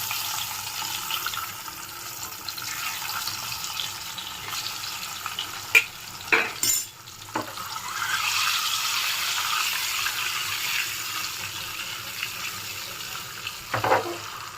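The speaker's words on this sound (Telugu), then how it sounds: "ఘాట్లు పెట్టుకున్న ఎగ్స్ వేసుకొని డీప్ ఫ్రై చేసుకుందాం బాగా." Slit boiled eggs deep frying in hot oil with a little turmeric: a steady, fairly quiet hiss and bubble of oil throughout, broken by a few brief clinks and scrapes of a utensil against the pan.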